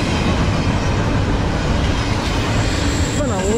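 An eastbound freight train of empty cars rolls past on the Lehigh Line, a loud, steady rumble and rattle close by that fills the whole stretch.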